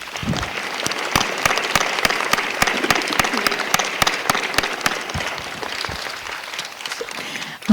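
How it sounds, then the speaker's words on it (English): An audience at a youth mental health panel event applauds steadily, a dense wash of clapping with sharp individual claps standing out, holding for several seconds before tapering slightly. "So please give a huge round of applause, not only to our panelists, but to you folks as well."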